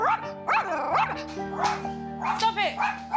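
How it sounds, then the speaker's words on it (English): A dog barks in short yappy bursts from a balcony, several times in quick succession, mixed with people talking nearby. "She's actually known in the park as being the dog that barks on the balcony."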